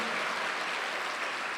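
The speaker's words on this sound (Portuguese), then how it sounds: "Dá uma salva de palmas para o Senhor." A church congregation claps during a worship service, a brief, steady, dense wash of applause heard on its own.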